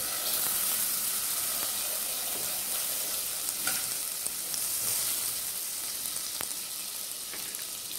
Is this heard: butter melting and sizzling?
yes